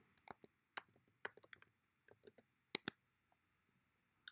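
Keystrokes on a computer keyboard, a sparse run of sharp, close clicks in irregular bursts, with quiet pauses between them and no talk.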